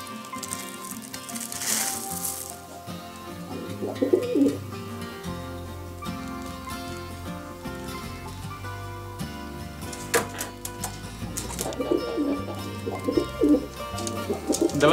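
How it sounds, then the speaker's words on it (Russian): Pigeons cooing softly and repeatedly at close range while pecking at feed, with scattered grain rustling and a faint sizzling hiss in the background. "Давайте кушайте, птички"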